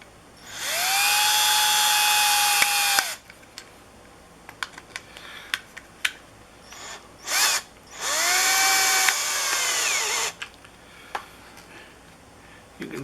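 Power screwdriver driving screws into a replacement shoreline power cord plug, two long steady whirring runs of about two seconds each, close and loud, with short clicks and taps between them.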